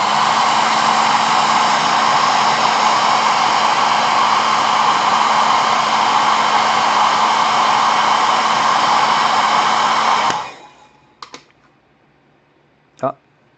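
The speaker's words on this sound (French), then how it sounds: "on mettra de toute façon un coup de sèche-cheveux" A hair dryer blows steadily and loudly on a freshly painted Star Wars Legion stormtrooper miniature, then cuts off, followed by a few faint clicks and a soft knock.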